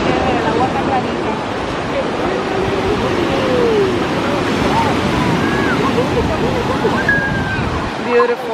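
Ocean waves wash onto a beach in a continuous rumbling surf with wind buffeting the microphone, while people chat faintly in the background.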